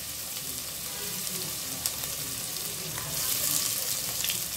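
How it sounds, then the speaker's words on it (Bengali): Hot tempering (bagar) with dried red chilies and onion is poured over bowls of haleem, giving a steady close crackling sizzle that grows louder and brighter toward the end, with no voices. "এখন আমি এগুলোকে বাগার দিব।"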